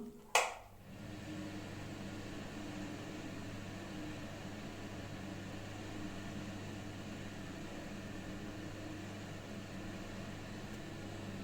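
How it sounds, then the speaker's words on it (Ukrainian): An Awenta System+ Turbo KWT100 bathroom exhaust fan starts with a click and then runs at a steady, even hum and whoosh that stays constant for the rest of the recording, with no voices present. "Зараз вмикаю витяжку."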